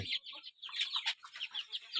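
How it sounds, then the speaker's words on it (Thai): Hen clucking in a chicken coop, a Burmese game-fowl breed, giving a run of short, close, moderately loud clucks and squawks in an irregular rhythm across the whole moment, with no talk over them. "แม่เขาเป็นไก่แข้งหน้า"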